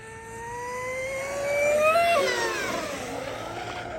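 A TFL Cheetah RC boat making a pass at half throttle, its motor whine climbing steeply in pitch then dropping away as the boat passes, loud and sustained over water noise.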